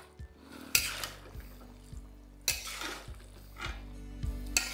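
A ladle clanks and scrapes around a pan of mixed winter vegetable curry after fried spice mix goes in, several loud metallic knocks separated by softer stirring and sizzle, no talking.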